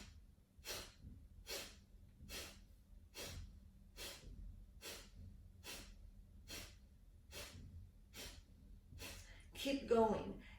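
Rhythmic yoga breathing with the belly drawing in on each exhale, about a dozen sharp nasal exhales at a steady pace of roughly one per second, close and clear, getting faster and more forceful toward the end.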